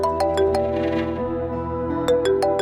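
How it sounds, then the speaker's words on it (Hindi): A mobile phone ringing for an incoming call, a repeating melodic ringtone with bright electronic tones, played steadily and fairly loud throughout with no talking. "आपकी स्वीट हार्ट की कॉल है।"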